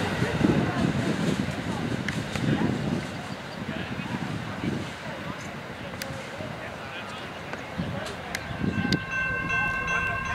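A CSX Q453 freight train passing Folkston on track 1 produces a steady, loud rumble of rolling cars with some wind buffeting, and people talk over it.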